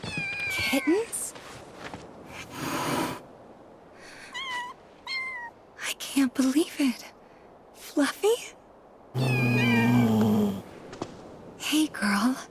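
Several high, wavering kitten meows come in short bursts in Final Fantasy VII Rebirth, interspersed with other game sounds and a stretch of louder noise.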